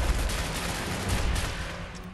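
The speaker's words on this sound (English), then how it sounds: "What are you gonna do now? Machine guns again?" Enemy machine gun fire in the shooter game Wolfenstein: The New Order, a steady rattling stream of rapid shots, moderately loud and continuous with no talk.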